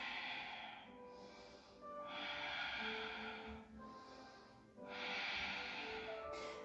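Slow, steady breaths drawn in and let out during a yoga pose, alternating in long even phases of about a second or two each, close to the microphone and soft, with no talking.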